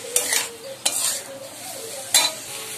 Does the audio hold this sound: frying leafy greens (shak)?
yes